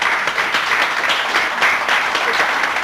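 Applause from an audience at a 2005 graduation ceremony, steady dense clapping throughout at moderate loudness, no voices standing out.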